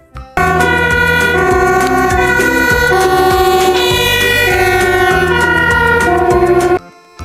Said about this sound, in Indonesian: mobil water cannon.